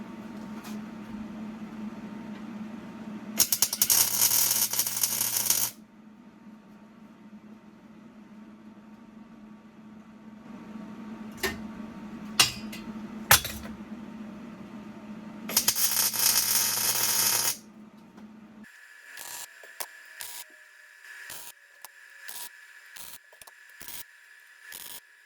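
Tack welds on steel parts for a narrow gauge flat car built for a 7.5-inch gauge train: two separate bursts of harsh, crackling hiss, each lasting a couple of seconds, over a low workshop hum, with a few sharp clicks in between.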